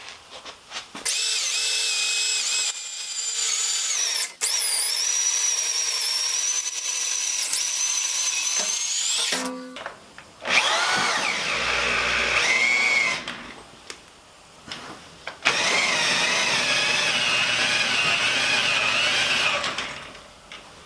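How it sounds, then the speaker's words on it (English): A power drill whines loudly in long sustained runs, its pitch wavering under load, with brief pauses between bursts and no speech. "I'm going to overheat my drill."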